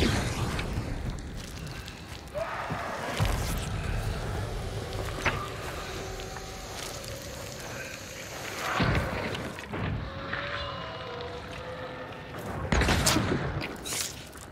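Gunfire in the first-person shooter Hunt: Showdown, several loud sharp shots with rolling echoes spaced across the span, over a steady ambient game bed with no talk.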